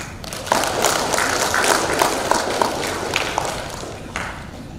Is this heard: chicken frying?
no